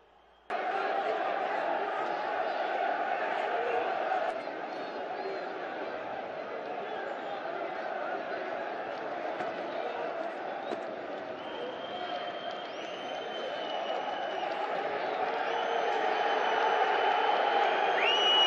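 A football crowd leaving the stadium after Atlético-PR versus Fluminense in the 2011 Brasileirão: a broad, steady roar of distant chatter and murmuring that swells slightly toward the end, with a commentator talking over it.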